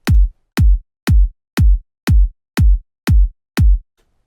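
Eight evenly spaced electronic kick drum hits from music production software, a steady four-on-the-floor pulse of deep booming thumps, clean and isolated with silence between.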